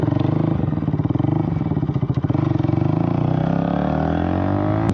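Several motorcycles on a group ride to Masanjor Dam in West Bengal rumble steadily up close, engines droning continuously before one swells upward as they pull away at the end.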